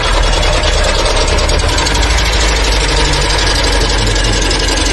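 A Changan Unice car's engine, failed after 600 km, runs loud and close with a harsh, continuous rough rumble and knocking clatter and no talking.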